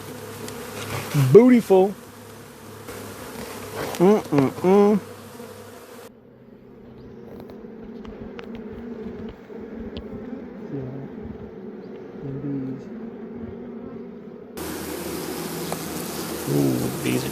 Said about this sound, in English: Ooh, bees are coming and going.